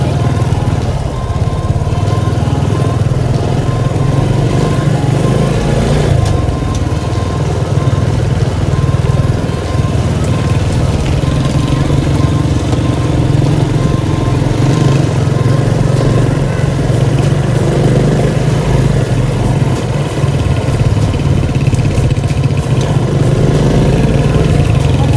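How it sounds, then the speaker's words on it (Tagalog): A Honda XRM 125 fi motorcycle engine pulls in low gear, a steady, loud, close drone with strong low-end rumble that holds without a break for the whole stretch. "malakas tong motor natin basta low gear lang"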